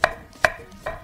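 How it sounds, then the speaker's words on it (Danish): A knife chops cucumber for acar ketimun on a cutting board, giving three crisp, evenly spaced strikes, close and clear with no talking. "Du kan for eksempel skære det i tern eller måske aflange stykker."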